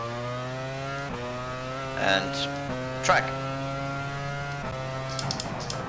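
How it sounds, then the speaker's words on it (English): Formula 1 car engine in F1 Challenge 99-02 at San Marino, a steady high-pitched droning whine that steps in pitch at a few gear shifts, with brief speech over it. "So you can enjoy the car engine sounds"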